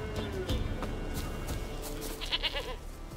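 A goat bleats in the video game The Witcher 3, a few short nasal bleats set against a steady background of game ambience and music.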